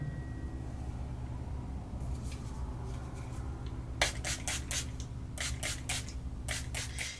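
A bottle of Milani Make It Last setting spray sprays in a quick series of short, crisp hisses, faint at first and then several distinct bursts close to the mic, over a quiet room hum.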